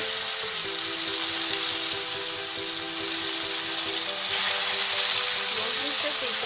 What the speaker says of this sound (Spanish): Vamos a dorar un poco la carne.